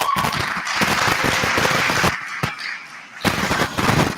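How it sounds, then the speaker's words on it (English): Audience at a national student council induction giving a loud round of applause, dense clapping that pauses briefly near the middle with a few sharp claps, then surges again. "Let's give the commission one professional good round of applause."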